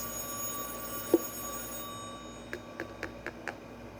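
A telephone rings faintly in the background during indoor hydrangea propagation, a run of five quick evenly spaced chirps near the end after a quiet stretch.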